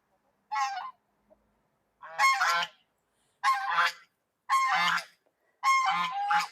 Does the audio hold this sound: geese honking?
yes